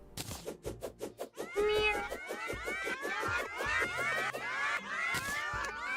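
A pet cat called Meow Meow in a video game meows over and over, a dense stream of overlapping high, wavering cries that begins with short rhythmic mews and then swells into loud, continuous caterwauling.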